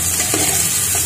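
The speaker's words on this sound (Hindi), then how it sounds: "1 चम्मच लहसुन पेस्ट डालेंगे और कटी हुई लाल हरी मिर्च डालेंगे और इसको घुमाते रहेंगे" Garlic paste with chopped red and green chillies sizzles hard in hot oil while being stirred, a loud dense hiss filling the brief moment, close up.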